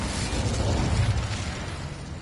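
Incendio fire spell cast in the video game Hogwarts Legacy, a dense, steady burst of roaring, crackling flame that stays loud for the full couple of seconds with no talking.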